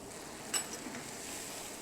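Chop suey sauce with red chilli sauce, salt and aromatic powder sizzles softly in a pan. A faint, steady hiss carries one brief clink of stirring near the start.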